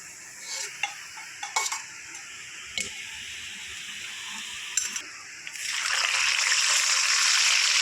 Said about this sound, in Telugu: మరి గట్టిగా అయిపోయే వరకు వేయించుకోండి